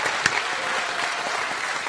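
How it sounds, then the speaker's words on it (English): Audience applause at a Hasselblad launch event, a steady dense wash of clapping from a crowd that holds evenly throughout, with one sharper clap standing out near the start. "please give him a great round of applause"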